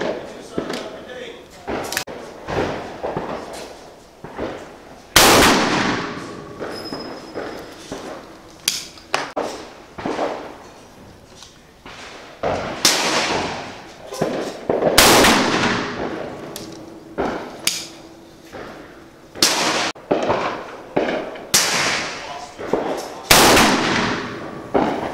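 Sharp shots from a Svarog Botfly air rifle firing slugs at an outdoor range, a dozen or more cracks spaced irregularly, loud and close, with background noise between shots.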